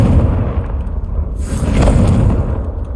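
A Confringo blasting spell from Hogwarts Legacy erupts as a heavy booming explosion with a deep rumbling low end and a brighter burst midway, loud and close.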